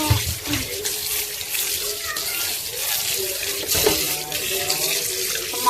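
A tap runs hard while pangash fish pieces are washed under it, a loud, steady close gush of water with occasional splashes and faint handling knocks throughout.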